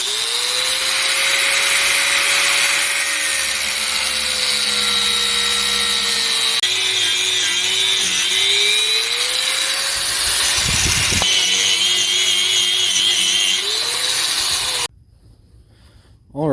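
Power tool cutting through a piece of old steel file, a continuous loud grinding whine that dips and rises in pitch under load, close, stopping near the end.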